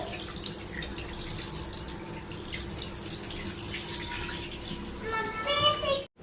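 Water pours steadily into a container in a home kitchen, a continuous splashing stream that rises in pitch as the vessel fills toward the end, then stops abruptly; faint room noise sits beneath it.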